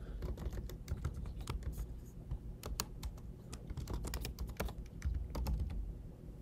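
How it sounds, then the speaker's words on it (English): Quiet, steady typing on a computer keyboard: a continuous run of close, crisp key clicks at an even pace, with no talking. "I'll start typing that in."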